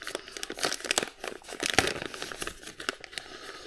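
Plastic wrapping crinkles and tears close up as a DJI Neo drone is unwrapped from its box, a busy run of sharp crackles and rustles with no talking.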